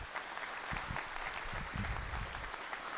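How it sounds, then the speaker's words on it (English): An annual meeting audience gives a big round of applause, dense clapping throughout with a few low thumps and murmurs from the crowd mixed in. "Give her a big round of applause"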